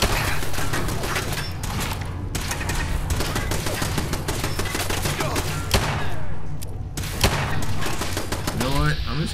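Gunfire in Fallout 4 pounds out as heavy repeated shots in quick bursts with thuds and game effects, loud and dense throughout, with brief gaps between volleys.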